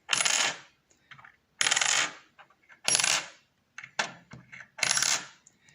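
Fake gold sovereign coins dropped one after another onto a hard surface, five sharp metallic clinks with short bouncing rattles, each a dull, dead ring that dies quickly rather than sustaining.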